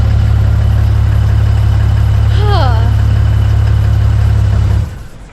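RV engine with a new starter, a heavy low rumble droning loudly and close before it suddenly cuts off near the end, with a short whistly squeal in the middle.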